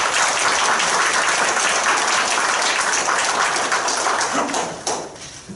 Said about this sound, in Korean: 수고하신 김성식 정책위 의장에게 박수를 한번 보내드립니다